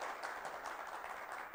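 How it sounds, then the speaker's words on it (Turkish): A studio audience on a Turkish talk show gives a guest dense, continuous applause at an even, fairly distant level. "Bir alkışlayalım kardeşimizi."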